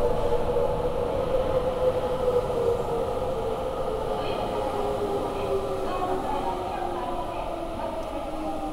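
A Sapporo subway train rumbles steadily at close range, with a low droning roar and tonal whine gradually easing as it runs along the track.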